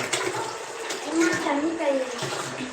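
Water runs from a tap into a pot, a steady splashing fill heard close by with voices talking over it.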